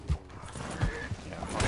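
A horse in the Red Dead Online video game making a few brief snorts and hoof sounds over a steady bed of ambient game noise, close and moderately loud.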